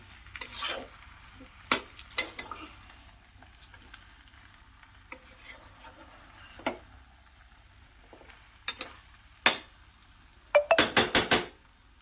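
A utensil stirs vegetables in a pan, with scattered scraping clinks and a louder burst of rapid clatters near the end, over a faint sizzle.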